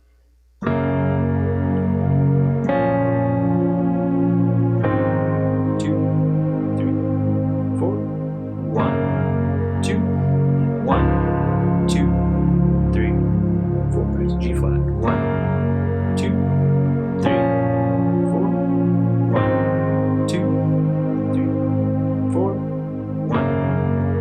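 Piano playing with both hands, steady chords in the low register under a melody above, continuous and close for the whole stretch.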